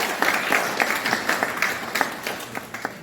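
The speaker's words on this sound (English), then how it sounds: "Please everyone, welcome her with a huge round of applause." Audience at a storytelling competition applauds as a judge is welcomed on stage, a modest spread of claps from a small crowd with a few sharper individual hits, moderately close.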